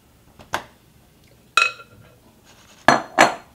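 A pan of flourless chocolate cake batter going into an oven, heard as a few separate sharp metallic clanks and knocks spaced apart against near silence, loud and close, with no voices.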